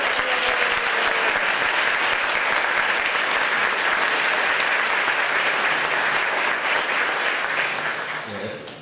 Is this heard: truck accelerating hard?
no